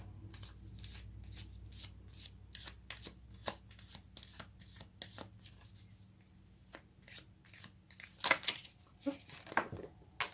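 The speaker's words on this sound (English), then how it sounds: "So let's take some more cards." A deck of tarot cards is shuffled by hand, close up, in quick repeated riffles and slides that make crisp papery flutters and snaps at an irregular rhythm; no voice is heard.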